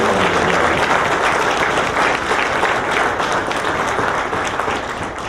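Applause for the planning committee at the opening ceremony of a diaspora engagement conference, a large hall crowd clapping steadily and loudly for the whole stretch, thinning slightly near the end.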